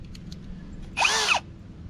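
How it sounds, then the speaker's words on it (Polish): Parkside cordless drill-driver from Lidl gives a single short, loud whirring burst of about half a second, the motor spinning up and winding down after a bit is fitted into the chuck, with quiet room noise before and after. "Także przełożę teraz bita do wkrętarki."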